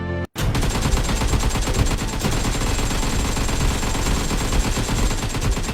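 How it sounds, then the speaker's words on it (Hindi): A long, dense burst of rapid gunfire rings out continuously, loud and close, after a brief silent gap at the start, in a game scene where the shots come from the floor below. "इतनी सारी गोलियां चलने की आवाज नीचे से आ रही है।"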